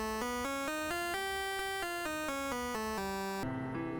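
A whole-tone scale played as a clear run of sustained musical notes, stepping up and then back down in even pitches, with a brief lower accompanying tone near the end and no talking.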